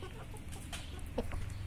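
Chickens near an anthill in a farmyard give a few quiet, short clucks over faint background noise.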